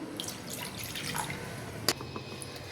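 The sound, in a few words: water being poured into a jar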